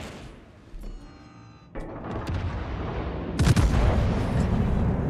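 Heavy naval guns boom from a Malborough battleship in a naval warfare game: sharp blasts at the start, a bigger one midway and a loud cluster later, all over a continuous rumbling roar.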